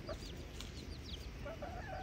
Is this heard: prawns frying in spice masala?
no